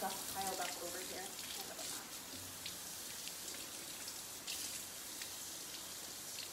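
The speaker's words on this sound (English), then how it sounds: "So the wet mop, I just run under water," Tap water runs steadily under a faucet as a wet microfiber mop is held beneath it, a close, continuous splashing hiss with a brief faint voice partway through.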